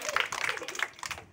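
Children clap in a ragged, quick patter of light, close hand claps during a ball-in-bucket throwing game, with faint voices mixed in.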